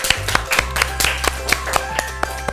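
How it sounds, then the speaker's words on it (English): Applause from a small group, with scattered individual claps in an uneven rhythm and no voices over it. "Let's give her a round of applause."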